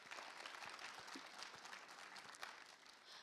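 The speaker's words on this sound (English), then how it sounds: "let's give them another round of applause" An audience at a national ICT summit gives presenters another round of applause, a soft, distant wash of crowd clapping held steady throughout.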